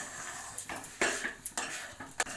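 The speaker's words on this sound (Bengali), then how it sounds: "দেখো এরকমভাবে নাড়তে হবে ডিনিং নেড়ে যেতে হবে" A spoon scrapes and clinks against a pan as semolina is stirred over a low gas flame for rasgulla, with a few sharp, quiet metallic knocks in a short burst.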